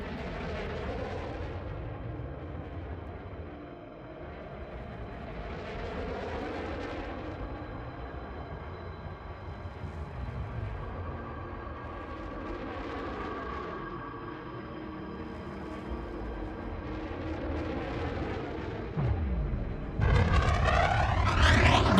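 Kestrel Mk II ship in Elite Dangerous holding half throttle with flight assist off, a sustained loud roaring rumble that surges and fades in slow waves, with a harsher burst near the end.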